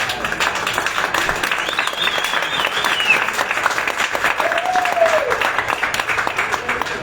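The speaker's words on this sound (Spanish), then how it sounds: "Dale un aplauso a papá." Loud, sustained applause from a crowd, dense clapping throughout, with a couple of brief whistles or voices rising above it.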